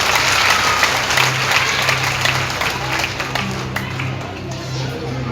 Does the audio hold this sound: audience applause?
yes